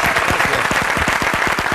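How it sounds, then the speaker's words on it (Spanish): An audience at an event bursts into loud, close applause, a thick continuous patter of many hands with no voices clearly standing out. "Un aplauso para ella por su español."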